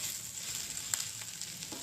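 Bitter gourd (kakarakaya) frying in a pan, a steady bright crackling sizzle up close with a few faint stirring clicks, no talking.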